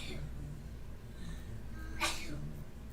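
A single sharp sneeze bursts out close to the microphone during a Kerbal Space Program RP1 gaming session, standing alone above a steady low room hum.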